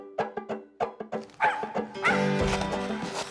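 An excited female hunting dog barks on a squirrel hunt, giving a quick series of sharp, close barks that run into a loud, sustained yelping burst at the end.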